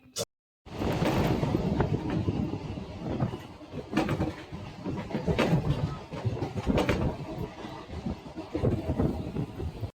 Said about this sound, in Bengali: এই ট্রেনে।